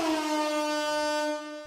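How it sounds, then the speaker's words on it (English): An air horn sound effect fired from a sample pad, one sustained, loud, brassy blast holding a steady pitch for over a second before tapering off. "air horn."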